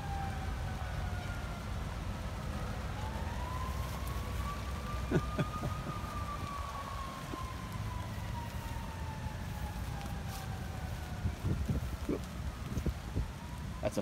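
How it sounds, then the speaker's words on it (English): A wailing siren rises and falls in the distance over a steady hum of city traffic in Brazil, with a few sharp knocks nearby. "With sirens in the background, city noise"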